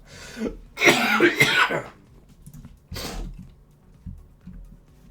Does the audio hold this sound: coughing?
yes